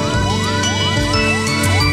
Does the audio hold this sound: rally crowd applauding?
no